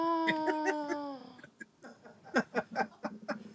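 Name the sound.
cheap bird call sound effect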